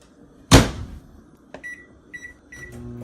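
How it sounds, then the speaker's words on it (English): A microwave oven heats a Jack Link's AM breakfast sausage beef jerky: a sharp thump of the door closing, then a few short electronic beeps, followed by a low humming start of the oven. "I'm going to go microwave mine."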